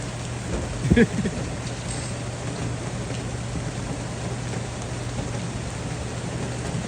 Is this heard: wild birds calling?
no